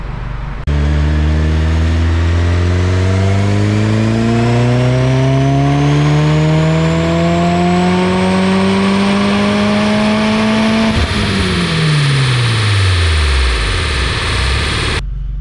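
A turbocharged Subaru VB WRX engine revs hard on dyno rollers, pitch climbing steadily for about ten seconds before dropping sharply as the throttle closes. The sound is loud, continuous and close.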